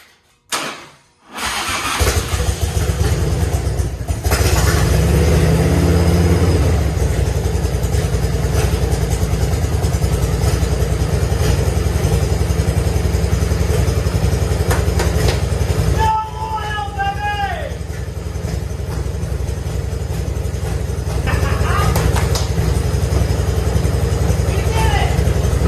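A Harley motorcycle engine cranks and fires up, then settles into a loud, steady, close-up idle rumble that carries on throughout, with a brief lull midway and people talking under it.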